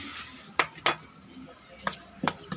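Utensils clink and scrape against a bowl while flour is mixed for a squid calamari batter, with a few sharp taps spaced irregularly over a quiet background.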